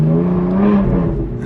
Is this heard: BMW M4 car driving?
yes